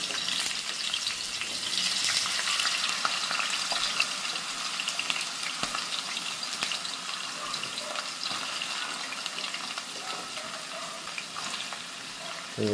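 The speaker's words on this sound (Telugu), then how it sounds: "మనం కట్ చేసుకున్న బంగాళదుంప ముక్కలు కూడా వేసేసుకుందాం." Cut potato pieces frying in hot oil, a steady dense sizzle and crackle holding throughout at close range with no talk.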